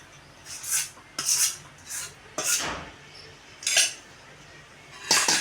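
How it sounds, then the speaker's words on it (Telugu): Chilli powder, salt and masala being mixed into mango pickle, with a series of spaced scraping, rubbing strokes of a metal spoon against a vessel, fairly close. "ఇప్పుడు కారం, ఉప్పు, కారం అన్నీ కలిపేసి మసాలా దీంట్లో వేసి కలిపేసుకుందాం మొత్తం అంతా"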